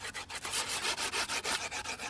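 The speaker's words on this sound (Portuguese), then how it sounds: "Pode lixar do lado." A skateboard is sanded by hand in quick, rhythmic back-and-forth strokes, roughly ten close, loud rasping passes in steady succession with no talking.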